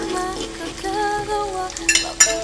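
Egg poured into a pan of eggplant and onion for a Filipino eggplant omelette, giving a steady close sizzle with light stirring and a couple of sharp utensil clinks near the end.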